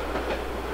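A train runs steadily in the rail simulation game A-Train 9, a continuous rumbling rail noise with no break.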